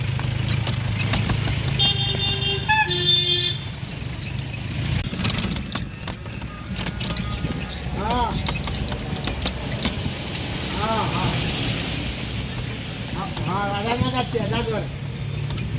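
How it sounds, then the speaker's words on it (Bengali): Road traffic heard from a rickshaw ride: a steady low rumble of engines and wheels runs throughout, with a short tonal horn blast near the start and people talking over the street noise. "রিক্সায় করে যাচ্ছি"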